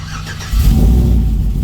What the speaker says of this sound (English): I'm gonna go on ahead and try to crank this thing up.